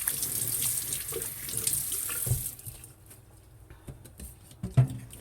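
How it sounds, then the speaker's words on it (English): Tap water runs into a sink as sticky batter is washed off hands, a close rushing stream that cuts off partway, followed by soft splashes and wet hand rubbing. "So, let me wash this sticky stuff off my hands."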